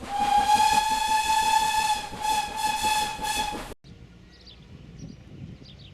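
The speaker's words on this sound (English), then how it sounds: "By 1847, the first steam engine arrived in Whitby" A long, loud, steady steam locomotive whistle with a hissing edge, lasting several seconds before cutting off abruptly, leaving quieter background rumble.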